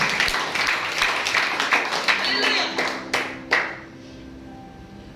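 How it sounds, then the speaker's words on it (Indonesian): A church congregation claps in a brisk burst that thins to a few scattered claps and fades out, with a voice calling out over it and a soft musical tone lingering underneath as the clapping ends. "Berikan tepuk tangan bagi dia."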